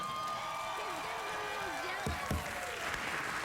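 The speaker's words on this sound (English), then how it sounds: "Where's my applause?" Late-night talk show studio audience applause and cheering, a steady crowd wash under a host's voice, with a couple of sharper thumps near the middle.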